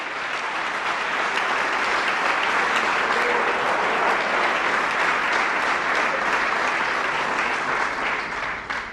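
Loud, sustained applause from a large church congregation praising God, dense clapping continuing steadily throughout before tapering at the very end.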